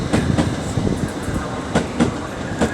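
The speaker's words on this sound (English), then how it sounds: "the 1814 Avanti West Coast service from Chester to London Euston, worked by 805012" Avanti West Coast class 805 unit 805012 runs through Stafford on the West Coast Main Line, heard close by as a steady rolling roar with sharp rhythmic clickety-clack wheel beats over rail joints.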